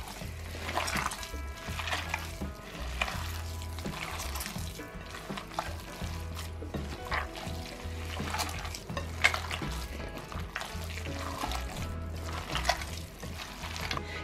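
Minced meat köfte mixture mixed with mineral water is kneaded by hand in a metal bowl, giving steady wet squelching and slapping with occasional clinks against the bowl. Close and continuous, with no talk.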